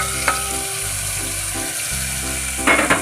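Sizzling tempering hits cooked spinach, giving a loud, steady frying crackle with brief stirring clatter and a sharp burst of sizzle near the end.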